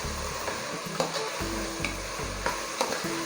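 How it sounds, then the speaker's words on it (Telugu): Mixed vegetables frying with salt in a pan for a lunch box vegetable bath, an even close sizzle broken by regular scraping spoon strokes and soft clinks against the pan. "వెజిటేబుల్స్ అంతా ఒక 2 మినిట్స్గా ఫ్రై అయింది సాల్ట్తో."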